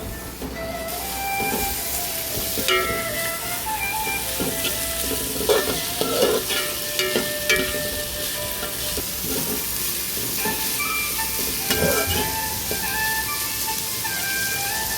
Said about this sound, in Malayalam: നന്നായിട്ടൊന്ന് ഇളക്കി കൊടുക്കണേ